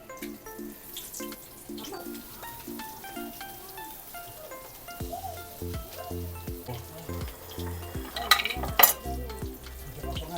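Pork lumpiang shanghai spring rolls fry in a pan, giving a soft continuous sizzle at moderate volume, with brief louder crackles near the end.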